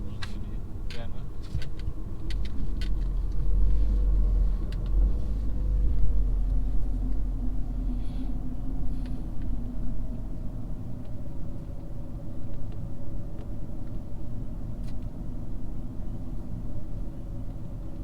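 Steady low rumble of road traffic with several vehicles passing on a busy street, a continuous engine drone with voices talking over it in places.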